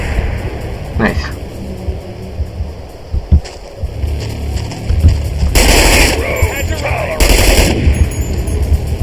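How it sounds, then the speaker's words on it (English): A submachine gun fires in the video game Manhunt as two loud, dense bursts late on, amid scattered impacts and wind-like game ambience. "That submachine gun's awesome."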